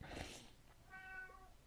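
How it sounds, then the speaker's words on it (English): A house cat lets out a short, faint meow: a brief breathy sound first, then a higher tonal cry, heard alone and close. "Oh, there's a meow."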